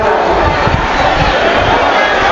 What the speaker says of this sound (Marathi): आज बेकार गर्दी आहे